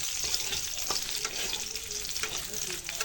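Cashew nuts frying in oil in a pan for a vegan fried rice, giving a steady bright sizzle with a soft crackle and a few light stirring scrapes.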